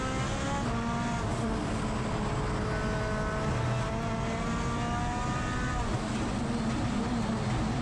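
A four-wheel-drive race car runs a smooth, hard lap, its engine droning loud and continuous with steady harmonic whine and gear changes, close and dominant throughout with no talk.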